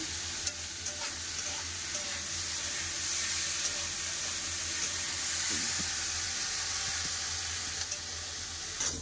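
Potatoes and bitter gourd frying in a pan, a soft, continuous sizzle close by with occasional scrapes and taps of a spatula stirring, no voices.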